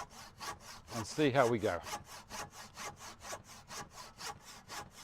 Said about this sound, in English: Didn't think I could use a handsaw